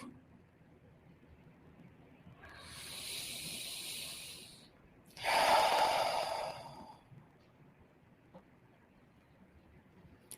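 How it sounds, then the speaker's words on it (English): Slow, gentle breathing during a guided morning meditation: a soft airy inhale followed by a longer, slightly louder exhale, close and alone in a quiet room. "gently breathing."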